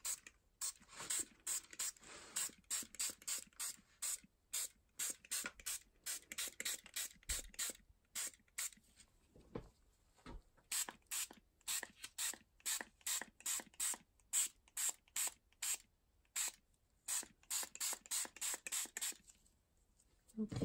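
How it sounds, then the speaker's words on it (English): A handheld spray bottle mists tea onto rice paper in rapid repeated bursts, each trigger pull a short hissing spritz, dozens in an irregular rhythm close to the microphone. "And I'm going to spray it with just the tea"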